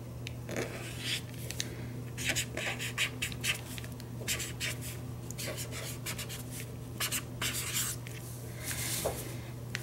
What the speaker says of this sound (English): I'm going to write January.